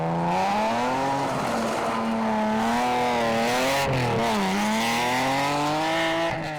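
A Porsche rally car drives hard on a closing Targa New Zealand tarmac stage, its engine loud and close, rising and falling steadily with a gear change partway through. No voices are heard.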